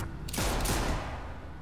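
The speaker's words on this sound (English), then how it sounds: "Oh, I heard bullets fly." Gunfire in The Walking Dead Telltale video game, a short loud burst of several rapid shots fired together, alone with no talk.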